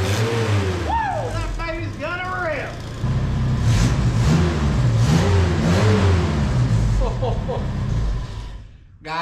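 Carbureted engine in a vehicle called the Yee Hawl, newly fitted with a carburetor and tuned at idle, revving up and down in repeated rising and falling swells, loud and close, with a voice talking over it at times.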